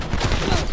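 Rapid bursts of automatic gunfire in Call of Duty: Black Ops 4 make a loud, dense rattle for a brief moment.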